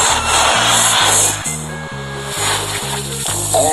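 A cobra item effect in the mobile game Mobile Legends: a loud, steady hissing rasp over a repeating low synthetic pulse, close and continuous for a few seconds.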